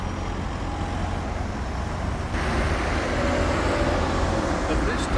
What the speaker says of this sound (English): hopefully we're going to hear the noise of the traffic behind me when cars come past